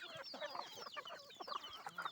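Farm chickens, hens among a rooster, cluck in quick, overlapping bursts while pecking at scattered grain, a soft busy chatter with no talk.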